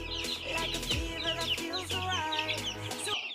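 Chickens in a poultry farm shed, its litter freshly cleaned, cluck and cackle continuously, several birds overlapping at close range with no talking.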